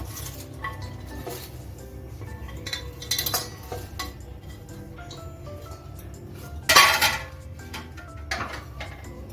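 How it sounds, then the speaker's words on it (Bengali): A bowl clinks and knocks on a kitchen surface as chopped cabbage is added, giving scattered light clatters with one louder cluster of clinks midway and no talking. "এখন একটা পাত্র নিয়েছি পাত্র মধ্যে আমি কপিটা নিয়ে নিচ্ছি কেটে রাখা"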